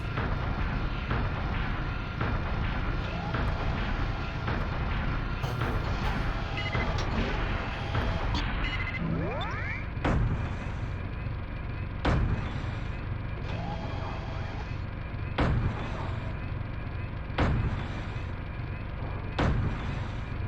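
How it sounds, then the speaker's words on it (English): Gunfire and heavy mech cannon blasts in the video game Steel Battalion, loud repeated sharp shots at irregular intervals over a constant dense rumble of engine and battle noise, with a siren-like tone wavering in the middle. "Yes, walk directly into my bullets."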